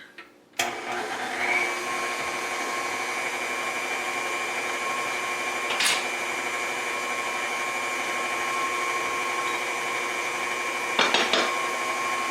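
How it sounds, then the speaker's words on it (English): A stand mixer starts up, mixing gluten-free Chicago deep dish pizza dough with soft butter. It gives a sudden start, then a steady, close motor whine and hum with a few brief knocks along the way. "and start the mixer."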